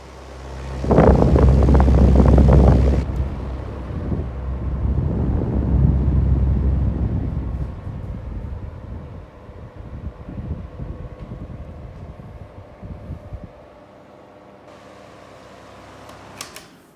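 A 1960s Indola 10-inch desk fan runs with a steady, loud motor hum and airy whoosh that swells early, then settles into a quieter, even drone before fading near the end.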